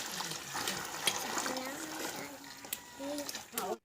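Leftover water from a cooking pot is poured into a separate vessel outdoors, giving a close, uneven splashing and trickling, while a person talks over it and a small clatter comes near the end.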